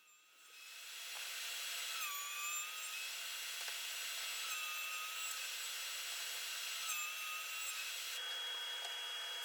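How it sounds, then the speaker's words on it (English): Wood glue-ups for an end grain cutting board fed through a planer, a loud, steady high-pitched machine whine with cutterhead tones that shift pitch as each board passes, running continuously after a quick start. "I run them through the planer on both sides."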